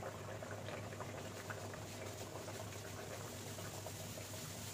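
Chana dal stuffed dal puri deep-frying in hot oil in a home kitchen gives a steady, close, busy sizzle and crackle that bubbles evenly throughout with no talking.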